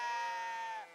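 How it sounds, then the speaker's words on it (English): A single close, clear sheep bleat in the video game Kingdom Come: Deliverance 2, harmonic and wavering, lasting about a second before trailing off. "Listen to the sheep."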